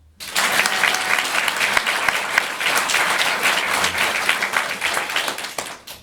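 Audience at a live stand-up comedy show breaks into sustained, dense applause, loud and steady for several seconds, with faint voices mixed in.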